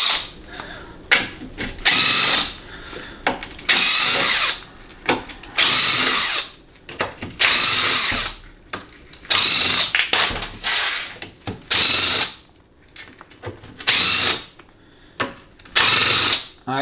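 A power tool zips off half-inch bolts from the pan of a TH350 automatic transmission in repeated loud bursts, each a second or two long, separated by short pauses and faint clicks.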